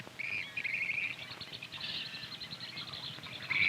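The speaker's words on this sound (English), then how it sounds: "a yellow-headed blackbird." A yellow-headed blackbird calling from cattails, giving harsh, buzzy rasping notes in a few bursts over faint outdoor background.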